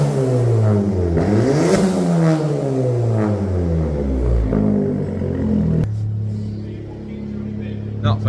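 A VW Polo 1.8 GTI 6C with its exhaust backbox deleted revs hard several times, close and loud, each rise and fall of the engine pitch clear, then settles back to a rumbling idle.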